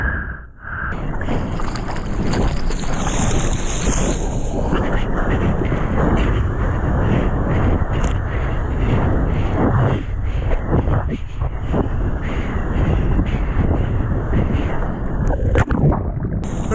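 Ocean surf rolls onto a rainy Washington beach under steady, loud wind buffeting the microphone, a broad continuous roar with a voice calling out near the end.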